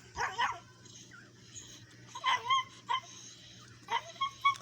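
Dogs barking in short, loud bursts spread across the clip, mixed with higher yips and whimpers, against a low steady hum in the background.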